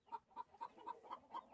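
Hens in a coop where eggs are laid, clucking in a quick regular series of about six short calls, close but fairly quiet, with no voices.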